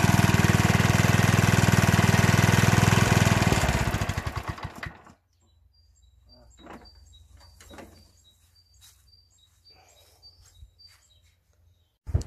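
Honda lawn mower engine running loud and rough after a hard start, then cutting off abruptly, leaving quiet room noise with faint clicks and a low hum.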